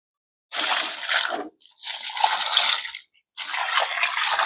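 Water poured in three separate bursts into a hole dug to anchor an RV against desert winds, each pour splashing and gurgling for about a second with short silent gaps between.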